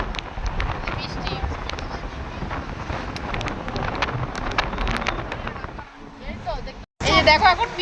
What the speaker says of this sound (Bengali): এই যে দেখো এখন বৃষ্টি পড়ছে আর প্রচুর হাওয়া